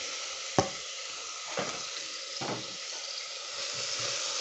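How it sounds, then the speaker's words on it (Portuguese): Chopped calabresa sausage frying in an electric pressure cooker, a steady close sizzle with a few sharp pops and crackles over the hiss. "Deixar ela dar uma fritadinha."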